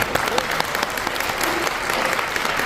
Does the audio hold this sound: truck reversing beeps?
no